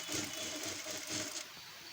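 A sewing machine stitches the shoulder seam of a blouse in a steady, fast mechanical whir with a slight pulsing rhythm, close and fairly loud, with no voices.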